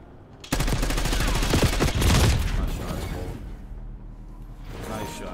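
Gunfire in Black Ops 6 during a 1v1 Search and Destroy match: a dense, loud burst of rapid shots that trails off into quieter game noise, with a voice talking partway through.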